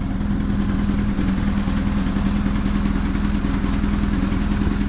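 A self-built adventure motorcycle idles steadily and loudly. With no clamps on the exhaust joints it gives a continuous chugging drone and a faint puffing from the leaks.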